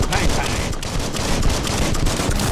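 Rapid, continuous automatic gunfire from the video game Biomutant, loud and dense throughout with a steady crackling rattle and no clear gaps.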